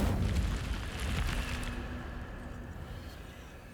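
Incendio fire spell cast in a Hogwarts video game: a booming, eruptive flare of fire that starts loud and slowly fades into a softer rumbling tail, with no talking over it.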